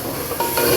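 Ginger, garlic, onion and green chilli sizzle steadily in hot oil as a tempering is fried and stirred, a close continuous crackle with no voices.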